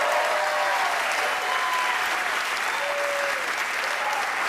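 A comedy club crowd at a stand-up show breaks into loud sustained applause, a thick continuous clapping with a few whoops and cheers rising over it, steady from start to finish.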